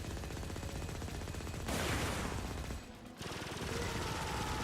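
Continuous rapid gunfire from a secondary weapon in the sci-fi shooter game Firefall, a dense unbroken rattle that briefly dips and surges, with no talk.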